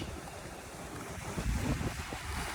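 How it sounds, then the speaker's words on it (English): A sailboat running downwind in 20 knots of wind, reefed, on the way to the Cape Verde Islands: steady roaring wind buffets the microphone while waves wash and surge against the hull. "Sailing downwind towards the Cape Verde Islands. 20 knots of wind."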